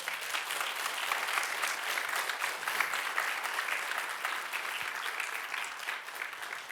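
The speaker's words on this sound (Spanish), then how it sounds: "¿Puedes darle un aplauso de alabanza a Él?" A church congregation breaks into sustained applause of praise, a dense, steady wash of many hands clapping together, moderately distant and continuing evenly without a voice over it.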